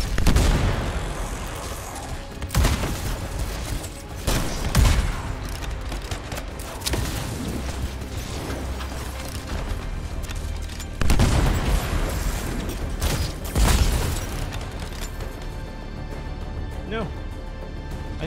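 Sniper rifle shots and explosions in the video game Anthem, with several heavy booms and bursts of fire over steady battle noise, while someone talks throughout.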